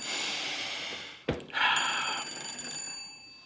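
An old-fashioned telephone bell on a direct line to Scotland Yard rings steadily, a bright metallic trill broken by a brief thump before the ringing resumes and fades.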